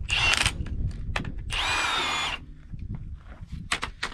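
A power tool backs off bolts on the stuffing box packing of a 101-year-old oil well, two loud whirring bursts of a few seconds each with quieter clanks between them.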